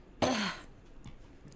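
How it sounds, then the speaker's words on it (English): A single sharp cough, likely from a character in Stardew Valley, is followed by faint soft sounds, with no talk. "I made my fiance cough."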